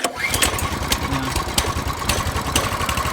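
A Honda CT200U motorcycle engine runs steadily on choke in cold weather, a continuous loud low putter with even pulsing throughout.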